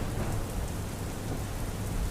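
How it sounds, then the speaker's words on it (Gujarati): Heavy monsoon rain pouring down in Bhatia village, Dwarka, a dense, steady roar of downpour with no breaks, loud and close throughout. "દ્વારકાના ભાટિયા ગામમાં મેઘરાજા મન મૂકીને વરસ્યા હતા"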